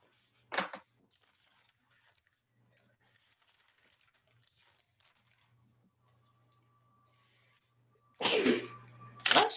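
Two sharp sneezes, one near the start and a louder double burst near the end, separated by a long stretch of near silence with a faint low hum.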